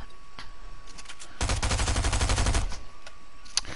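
Rapid automatic gunfire from a building-and-shooting video game, a dense burst of shots lasting about a second and a half, loud against a steady game background with a faint tone.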